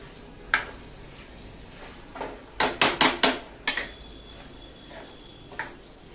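Cluster bean (gavar) sabzi stirred in a pan with a spoon, sharp metallic clinks and scrapes coming in irregular taps, with a quick cluster of four or five strikes in the middle, close and clear against quiet room noise.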